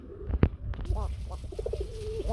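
Pigeons coo in a loft, low soft throaty calls repeating close by, with a background of other birds and a faint murmur of voices.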